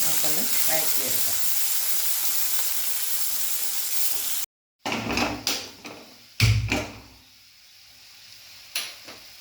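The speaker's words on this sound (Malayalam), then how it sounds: "ഉള്ളി കൂടി അരിയാതെ നമുക്കൊന്ന് വഴറ്റിയെടുക്കാം." Onions and two green chillies sauté in a pan with a loud steady sizzle, then after a brief cut come quieter frying with several thuds and scrapes of stirring.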